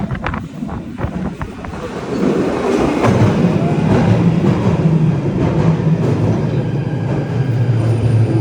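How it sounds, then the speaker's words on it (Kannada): A London Underground train rumbles through a tunnel, a low steady roar building after a couple of seconds and holding loud, with wind rushing over the microphone. "ಒಂದು ಟ್ರೈನ್ ಪಾಸ್ ಆಗ್ತಿದ್ದಂಗೆ ನಿಮಗೆ ಈ ಒಂದು ಟ್ರ್ಯಾಕಲ್ಲಿ ಗಾಳಿ ಹೆಂಗೆ ಬರುತ್ತೆ"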